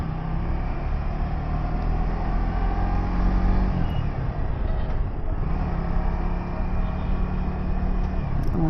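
Heavy, chaotic Dhaka city traffic with rickshaws and bikers, a continuous low rumble of engines and passing vehicles, fairly loud and unbroken throughout.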